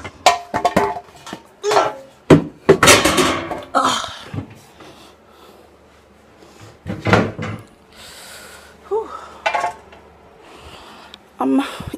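Pans and paint supplies are pulled out of kitchen cupboards, a string of close clattering knocks, cupboard door thuds and rattling clanks in irregular bursts, with quieter rustling between them.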